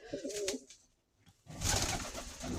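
Soft pigeon coos in two short bursts, a quiet pause between them, the second stretch louder and busier with several birds calling at once.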